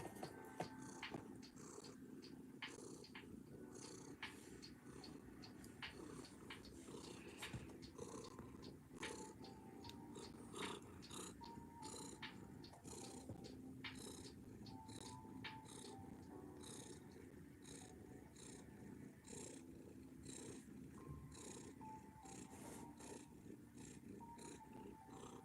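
A young kitten named Evie purring loudly and continuously at close range, a rough, rumbling drone that holds steady throughout with light ticking noises scattered over it.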